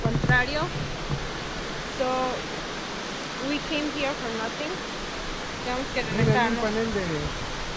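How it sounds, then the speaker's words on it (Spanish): Water falling over a dam at Paterson Great Falls, a constant broadband rush running under people talking nearby throughout. "Esta es la represa, ahí cae el agua, ahí se filtra todo el agua."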